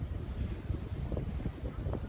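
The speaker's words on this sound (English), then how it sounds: "You hear that wind, bro?" Strong cold wind blowing outdoors, a low buffeting rumble against the microphone with gusty swells, no voices.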